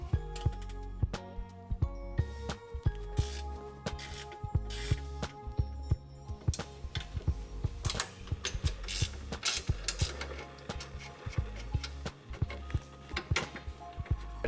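A ratchet clicks in quick repeated bursts while rear strut and sway bar end link bolts come off a GT86/FRS/BRZ during a suspension install, close and busy with metallic tool clatter and no talk.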